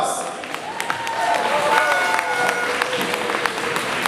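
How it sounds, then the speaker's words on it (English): Crowd applause at a Miss Teen Philippines pageant, a sustained patter of many hands with crowd murmur and a few sustained tones under it, fairly loud throughout. "a round of applause."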